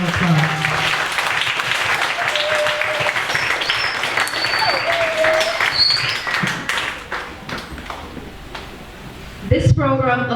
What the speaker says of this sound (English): So give yourself a loud round of applause.